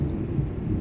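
Rain and thunder in Euro Truck Simulator 2 on an intercity road in wet weather: a steady, deep rumble with a dense wash of rain that holds constant for the whole short stretch, with no voices.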